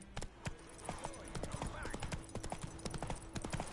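The Witcher 3's horse Roach gallops with rapid, uneven clip-clop hoofbeats, close and clear, while a voice talks faintly underneath.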